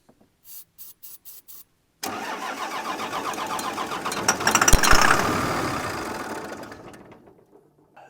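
A 1993 Dodge D350 Cummins engine that sat over 15 years in a swamp, with a fuel problem, is tried: a handful of sharp clicks, then about five seconds of loud, steady starter cranking that winds down without catching, no voices.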